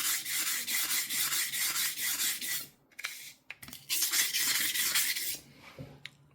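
A kitchen knife drawn repeatedly across a whetstone, giving rhythmic rasping strokes at close range, pausing around the middle of the stretch and then resuming.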